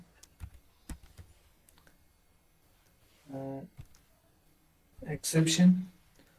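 Python code being typed on a computer keyboard: a short run of faint, scattered key clicks, then a pause and someone talking briefly in two bursts.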